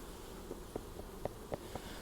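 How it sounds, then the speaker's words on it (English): Quiet steady hum of honey bees inside a nucleus colony hive, with a few short soft buzzing pulses rising from the drone and no voices. "Wow, there are a lot of bees in here."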